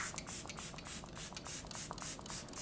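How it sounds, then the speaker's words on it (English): Makeup by Mario setting spray is misted close up in a rapid series of about eight short, soft hissing pumps, evenly spaced and quiet, with no talk. "I'm gonna use the Makeup by Mario setting spray as my final step."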